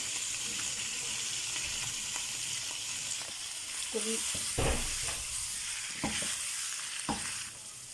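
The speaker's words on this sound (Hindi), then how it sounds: "अब हम इसमें डाल रहे हैं अदरक पेस्ट," A steady sizzle of ginger paste frying with chicken in a hot pan, with occasional scrapes and clinks of stirring, close up and without talk.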